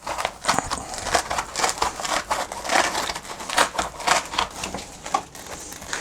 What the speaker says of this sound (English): You've got a pretty good technique going there for peeling out the foam.